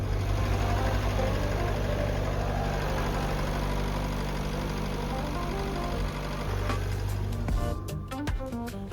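A sailboat's inboard engine idles steadily with a dense, even low rumble and faint knocking, close and continuous until it cuts out near the end, leaving a few clicks and knocks.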